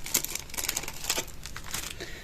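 Soft, close crinkling of a plastic bag, with quick irregular rustles and crackles as it is handled, fairly quiet and without any talking.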